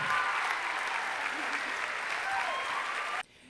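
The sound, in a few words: audience applause for the second dancing couple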